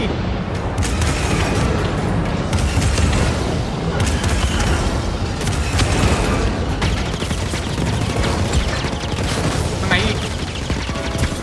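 Dense gunfire with booming blasts in Star Wars Jedi Fallen Order, a continuous loud barrage of shots running the whole time, with a voice shouting over it.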